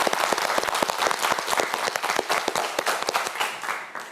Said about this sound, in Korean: 김형민 학생을 위해서도 큰 박수 부탁드립니다.